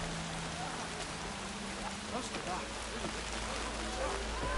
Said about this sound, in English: There's the rain. I can smell it coming.